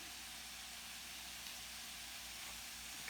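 Ground beef sizzles in a skillet with a steady, broadband hiss that holds evenly from start to finish, fairly faint and continuous with no talking over it.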